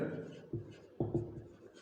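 Chalk or marker scratching across a board during a Class 9 physics lecture on motion, a few short strokes close by, mixed with the teacher's ongoing talk.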